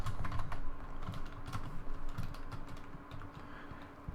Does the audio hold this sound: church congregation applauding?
no